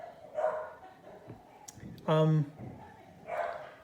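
A pet dog barks and yelps nearby indoors, giving a few short, uneven outbursts with one louder, strained bark in the middle, mixed with a person talking.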